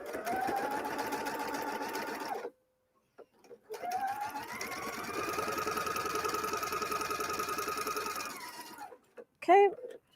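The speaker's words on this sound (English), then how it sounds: "I'm just going to sew it." A sewing machine stitches in the ditch along a seam on heavy fabric, running steadily for two long stretches separated by a brief pause, then a short clack at the end.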